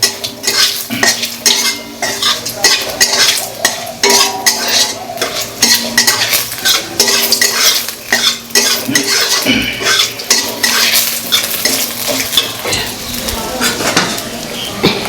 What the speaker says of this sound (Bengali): তেজপাতা আর হচ্ছে কি দিয়ে দিয়েছো পাঁচফোড়ন দিয়ে এখন জাস্ট আগে ভালো করে ভাজা হচ্ছে